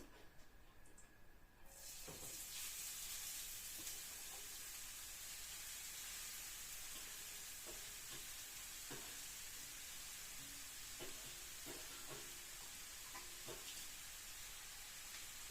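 Grated carrots for zucchini caviar hit a hot pan and break into a steady, bright sizzle that holds on continuously, with faint occasional clicks of cooking in the background.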